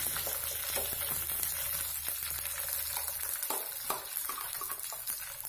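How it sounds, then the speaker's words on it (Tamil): Mustard seeds, dried chillies and curry leaves fry in coconut oil for a Kerala-style fish kulambu, giving a soft, steady sizzle with scattered small pops and stirring clicks, faint and close. "கடுகு நல்லா வெடித்த உடனே காஞ்ச மிளகாவும்"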